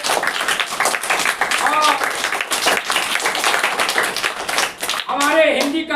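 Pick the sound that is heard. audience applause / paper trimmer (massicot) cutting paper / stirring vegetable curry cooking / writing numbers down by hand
audience applause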